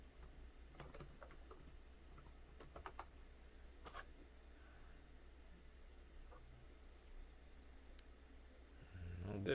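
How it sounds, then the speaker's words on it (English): Someone types on a computer keyboard, giving quiet clusters of sharp clacking keystrokes in irregular bursts over a low background hum, with a louder rustle near the end. "I hear you clacking on that keyboard there."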